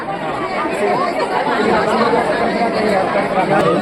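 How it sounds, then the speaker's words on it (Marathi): Dense chatter of a huge crowd packed into the Vani temple fort, a steady, loud wash of many overlapping voices with no single speaker standing out. "देखू शकता गर्दी आडमाप"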